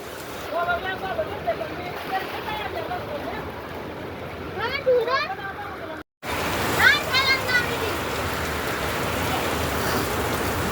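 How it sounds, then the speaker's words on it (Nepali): Heavy rain and hail pounding down at five in the evening amid a cold, gusting wind, a dense steady roar throughout with a brief dropout midway, while a person talks over it. "यत्रो असिना झर्दा"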